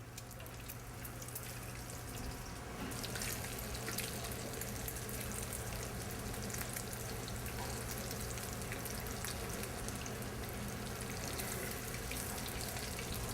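Egg-battered wild game fries in a pan of hot oil, giving a steady, dense sizzle that holds level and close throughout with no talking.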